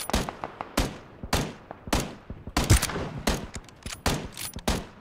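Rapid bursts of gunfire from the battle royale shooter PUBG crack in irregular clusters, some close and sharp, others fainter, with no speech over them.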